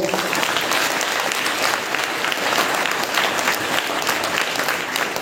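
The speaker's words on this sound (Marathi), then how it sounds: "आपण सर्वांनी तुमच्या या गुरुजनांसाठी देखील जोरदार टाळ्या वाजवाव्या" Loud, sustained applause from a gathered crowd of students and guests at an ashram school's Indian Independence Day ceremony, honouring their teachers; dense continuous clapping with faint voices mixed in.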